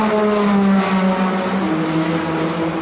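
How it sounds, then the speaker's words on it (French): Peugeot 9X8 hypercar engine, a loud close whining drone with a clear steady pitch that sags slightly lower as it passes, alone without talk. "le bruit de la Peugeot 9X8"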